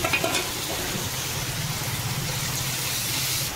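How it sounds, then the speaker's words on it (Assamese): Vegetables sizzle steadily in a pan for an Assamese cucumber and fish curry, a close, continuous crackling hiss at an even level. "মই এনেকৈ চব্জিখিনি ভাজি থাকিম"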